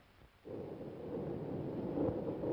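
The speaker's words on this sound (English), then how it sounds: "Thunder and lightning terrific." Thunder rolls through a storm around a stratospheric balloon in a 1934 film: after a brief quiet moment, a deep, loud rumble swells in and keeps building steadily, with no voices.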